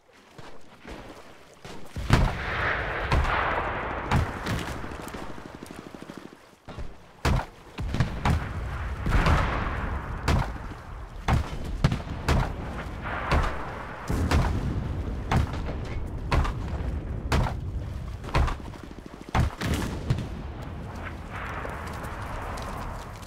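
Artillery fire rumbles through a Battle of Moscow match in the video game Enlisted, a long string of booming blasts and sharp cracks at irregular intervals, some near and loud, others duller and more distant.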